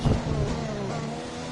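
An F1 car in the racing game F1 2020 accelerates down a long straight on overtake boost, its high engine note rising steadily and sustained at moderate loudness with no voices.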